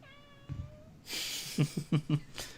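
A cat meows close by, giving a drawn-out meow followed by a quick run of short, loud meows, with faint background sound between them.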